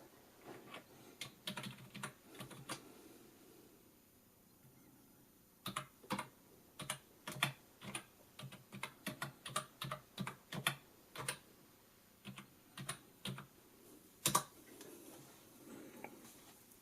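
Typing on a cheap Dogxiong Adobe Photoshop keyboard: quiet, close key clicks come in irregular flurries with short pauses between them, plus one sharper tap near the end.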